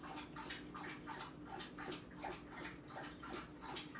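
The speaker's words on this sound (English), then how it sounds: "If you hear that lapping behind me, that is my dog, Leia." A dog lapping water from a bowl in a kitchen, a quick rhythmic series of wet slurping laps, faint and slightly distant, with no talking.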